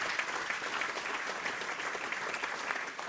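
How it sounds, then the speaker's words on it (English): Applause for a school team at an F1 in Schools national final awards event, a steady, dense clapping from an indoor audience lasting the whole few seconds without talk. "please can we give them a round of applause"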